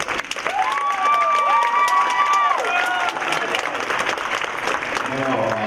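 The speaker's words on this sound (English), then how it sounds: "One round of applause again." At a Northern California Cherry Blossom Festival queen program, an audience gives sustained applause and cheering for five ladies, loud and continuous, with a voice speaking over it and a whistle-like tone early on.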